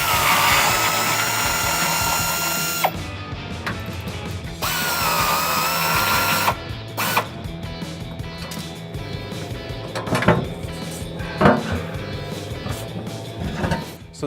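Power tool spinning out 15mm bolts from the front bumper of a 2010-2014 Ford F150, a steady loud whir for several seconds broken by pauses, then shorter bursts and clicks as the last bolts come free.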